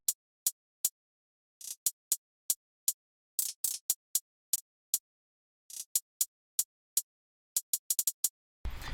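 A bouncy hi-hat pattern in an FL Studio trap beat plays alone: crisp, bright ticks in uneven bursts with quick rolls and stutters, ending in a short burst of noise.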